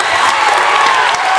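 A loud, dense crowd roars and cheers in a basketball gym at a boys' high school game between Southwestern and Somerset Christian, a steady wall of noise without clear talk.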